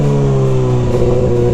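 A new Kawasaki ZX-6R motorcycle in full power mode accelerates hard, its engine a loud, close, steady drone with pitch climbing slightly throughout.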